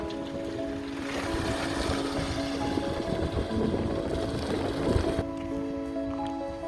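Strong wind roars steadily across the microphone, a broad continuous rush with gusty buffeting and no voices.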